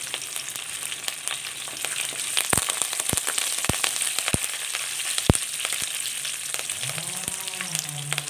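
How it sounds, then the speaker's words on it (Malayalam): Cut dried red chillies frying in hot oil with curry leaves and urad dal, a steady close sizzle punctuated by sharp popping crackles, with a few stirring scrapes near the end. "ഇനി രണ്ട് വറ്റൽ മുളക് മുറിച്ചതും കൂടി ഇട്ട് കൊടുക്കാം"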